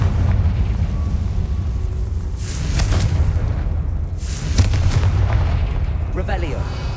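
The Confringo blasting spell in Hogwarts Legacy, a heavy booming explosion followed by another, with rumbling low end and bursts of debris noise, loud over constant game ambience.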